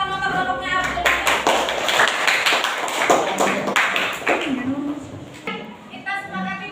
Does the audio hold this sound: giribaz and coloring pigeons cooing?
no